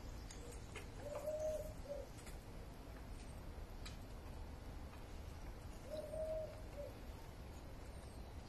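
A cuckoo calls twice in a garden, soft and somewhat distant, each call a short pair of hooting coos spaced several seconds apart over steady background noise.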